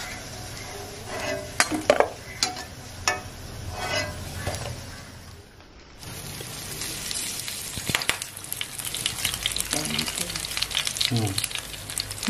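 Keerai vada, spinach fritters, frying in a pan make a steady sizzle, with scattered clinks and scrapes of a utensil against the pan, close and fairly loud, and no talk.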